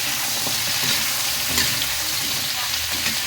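Vegetables sautéing in a pan, a dense close sizzle that stays loud and even throughout, with faint stirring clicks and no talk.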